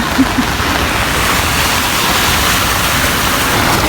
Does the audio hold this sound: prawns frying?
no